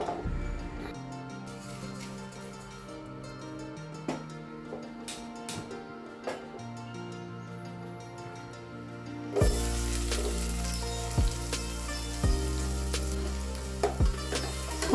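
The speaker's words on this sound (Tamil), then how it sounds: "ஸோ சேமியா வந்து வறுத்து போடுங்க" Vermicelli (semiya) fries in a pan with a soft, faint sizzle and occasional light clinks. Partway through it jumps to a louder, steadier crackle with periodic tapping.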